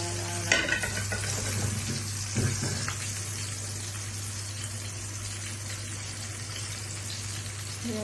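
Milkfish sarciado sizzles steadily in a hot pan while being stirred, with occasional utensil scrapes and clinks near the start, close and continuous.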